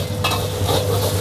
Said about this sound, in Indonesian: Kita masak ketiau goreng seafood level 0.